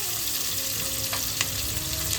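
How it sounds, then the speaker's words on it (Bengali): Finely chopped onion sizzling in hot oil in a pan, an even, continuous frying hiss with a couple of brief crackling bursts and a low steady tone beneath. "এবার পেঁয়াজটাকে কিন্তু ভালো করে ভাজতে হবে।"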